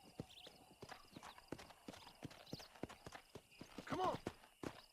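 A horse in the Red Dead Redemption video game on Xbox 360 walking slowly, its hooves clip-clopping in a steady, even rhythm throughout. A short whinny rises near the end, and faint voices sit in the background.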